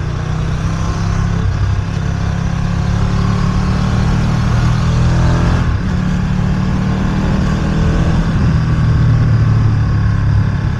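A Ducati Streetfighter V2 naked motorcycle rides through city traffic, its engine a steady, loud, low drone with wind rush, holding nearly constant with slight swells in pitch.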